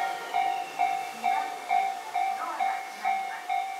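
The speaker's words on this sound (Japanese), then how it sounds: "2番線より各駅停車池袋行きの電車が発車いたします。" A Tobu Tojo Line local train for Ikebukuro pulls out of a station during the weekday morning rush, wheels clattering in a rhythmic clickety-clack under a steady electric whine, moderately loud with no voices.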